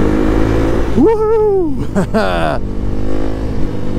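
A Kawasaki KLX 300 motorcycle exhaust revs loudly inside a tunnel, its engine note climbing and falling in quick bursts over a constant roaring drone, while a rider whoops excitedly.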